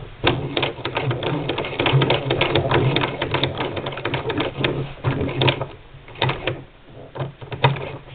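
Singer Model 20 toy sewing machine stitching through fabric, a continuous rapid mechanical clatter of the needle with small knocks, steady and close for several seconds, with no talking.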